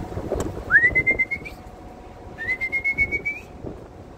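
Two drawn-out whistling coos from pigeons, each about a second long and separated by a short pause, ring clearly over faint background noise.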